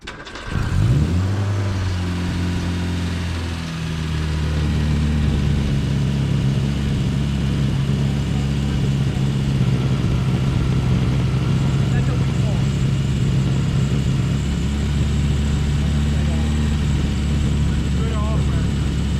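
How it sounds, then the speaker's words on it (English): A Triumph TR3 car engine runs again after sitting for over 40 years, settling into a steady, loud close-up idle with a deep even drone that holds throughout. "This car is running again for the first time in over 40 years."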